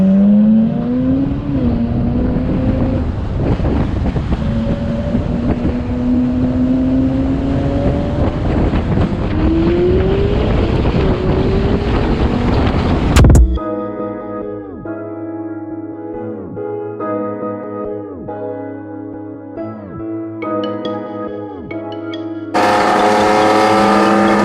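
Ferrari GTO engine howling as it revs, its pitch climbing repeatedly through the gears, then settling into a steadier, throbbing tone with short bursts of revs, loud and near with no talking.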